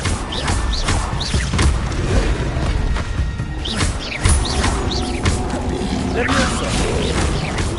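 Crackling, booming bursts of the Confringo blasting spell in Hogwarts Legacy, several impacts scattered through busy combat noise, with a voice casting spells and faint chirps in the background.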